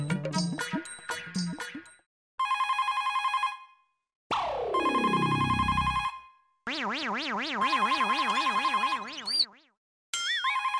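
A telephone rings with a series of electronic ringtone bursts, warbling and chirping melodic tones separated by short gaps, loud and close with no talk over them.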